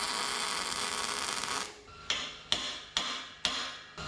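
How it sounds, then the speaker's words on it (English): A steel square used as a hammer on metal during a 1963 Loadstar tilt bed build: after a stretch of steady hum, four sharp, ringing metallic strikes land about half a second apart, close and loud. "You want to use your square as a hammer."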